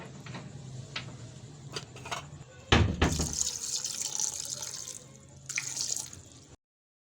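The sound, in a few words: water being added to beef and lentils for shami kabab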